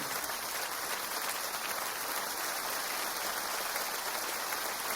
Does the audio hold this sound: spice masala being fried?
no